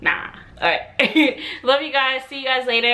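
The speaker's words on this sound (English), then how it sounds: "Sorry for the dog barking in the background" A dog barks and yips in the background while a person talks over it, the barks short and repeated.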